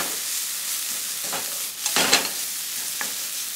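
Mapo tofu seasoning paste fries on low heat in a pan, with a close, steady sizzle broken by a few short bursts of spatula stirring and scraping.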